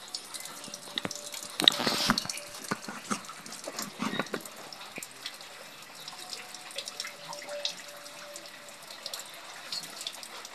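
Dried anchovies (dilis) being rinsed in water: tap water runs and splashes at a steady low level, with a louder gush near the start and scattered drips and handling clicks, no talking.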